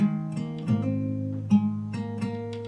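A song picked fingerstyle on guitar, each plucked note and bass string ringing on into the next, several crisp attacks spaced at an easy pace, close-miked and played alone without speech.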